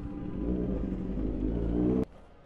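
A group of motorcycles, a KTM Duke 390, a Kawasaki Z900 and a GT650, idles and revs at a petrol pump, giving a steady low rumbling drone that swells slightly and then cuts off abruptly near the end.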